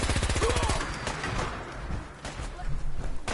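Rapid gunfire from a gun in the game Fallout 4, a quick burst of shots up front that fades into scattered blasts and background game noise, with talk mixed in.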